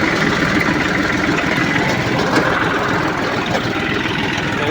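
A tractor engine runs steadily while sowing cumin and chickpea seed in a village field, a loud continuous low rumble with no speech.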